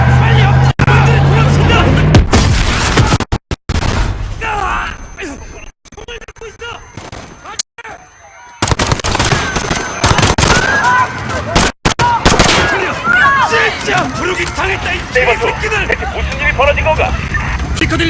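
Explosions and bursts of gunfire from a street shootout against police in the Call of Duty: Modern Warfare campaign mission Piccadilly, loud and chaotic, with shouting voices and dropouts between blasts.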